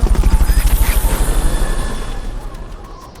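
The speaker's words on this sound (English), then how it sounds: "Fulton recovery subject confirmed onboard helicopter" Rotor chop of the Fulton recovery helicopter in the Metal Gear Peace Walker video game, a loud, rapid rhythmic thumping that gradually softens and blurs into a fading whoosh as the aircraft pulls away.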